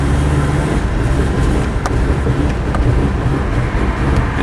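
A Suzuki Vitara engine drones and labours under acceleration with an uneven, surging rumble and faint knocks, heard steadily from inside the vehicle.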